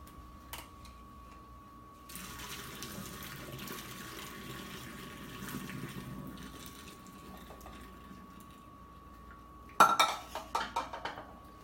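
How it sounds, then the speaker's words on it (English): Water from boiled shirataki noodles pours off as the pot is drained, a steady broadband rush running for most of the clip, ending in a short burst of metallic pot clatter near the close. "I'm going to drain the water."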